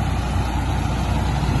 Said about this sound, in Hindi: भाई मेसी ट्रैक्टर है, वो मेसी ट्रैक्टर तो अपना सारे काम कर ला रहा है